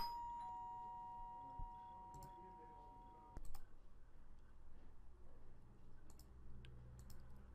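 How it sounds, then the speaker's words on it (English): A two-tone doorbell chime rings clearly in a quiet room, its tones sustaining for a few seconds before a muffled thump and faint background noise. "As you probably heard there, the doorbell rang"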